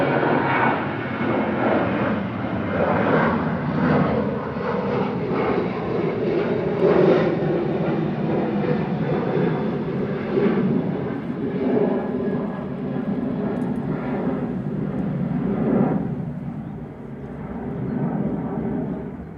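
Airliner departing Manchester Airport, a continuous broad jet engine roar heard from a distance outdoors, holding steady and easing slightly toward the end, with no talking.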